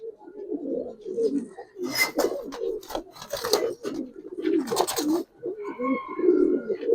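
Pigeons of a Giribaz colouring breed coo repeatedly at close range, low throaty rolling calls with brief bursts of wing flutter or scuffling between them.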